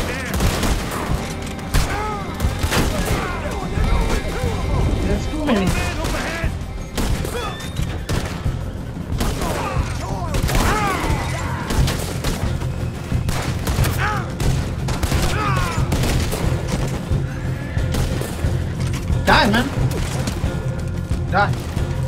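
A Red Dead Redemption 2 shootout: dense bursts of gunfire and rapid shots crackle throughout, mixed with game voices talking and shouting over the battle.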